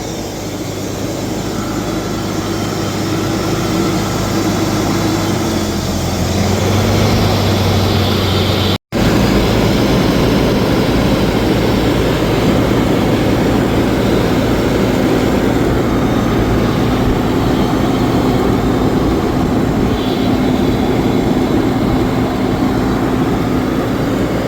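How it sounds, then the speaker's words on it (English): Ford XR6 engine idling with a failing water pump, a loud steady droning hum with a faint whine over it, continuous and close, with a momentary cut partway through. "that water pump sounded unhappy"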